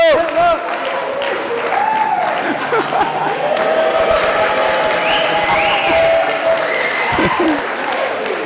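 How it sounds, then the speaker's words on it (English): Wedding guests at a reception applaud loudly and steadily in a close room, clapping mixed with a few whoops and cheers, and voices calling out over the crowd. "Round of applause."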